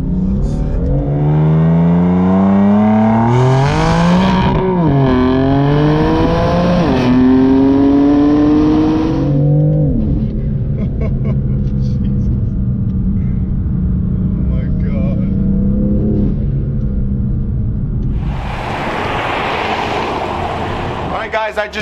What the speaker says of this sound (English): Because when you're revving it,